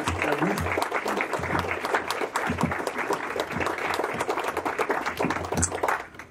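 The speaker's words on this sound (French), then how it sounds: "je demanderai de les applaudir bien fort à l'association" Audience at a French reading event in Nice applauds steadily and loudly throughout, a dense wash of clapping with a few distinct claps standing out, no voices over it.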